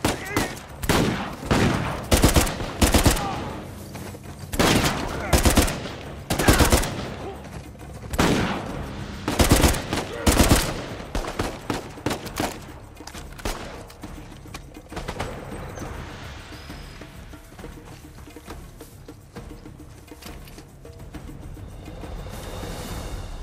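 Gunfire from a firearm in the action game Uncharted 4, with loud spaced single shots and short bursts over the first half, then fainter, sparser firing later.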